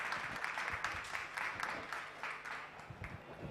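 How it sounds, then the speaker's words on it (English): An audience at a climate information conference applauds with fairly soft, sustained clapping for a few seconds. "So can we have another round of applause for Yunyi and Amjad?"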